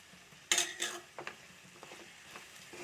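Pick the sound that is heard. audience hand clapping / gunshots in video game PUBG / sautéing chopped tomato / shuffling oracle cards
sautéing chopped tomato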